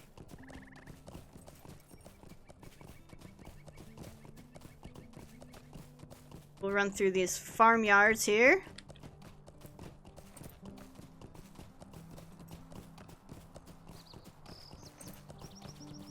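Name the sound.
horse hooves galloping in video game Lord of the Rings Online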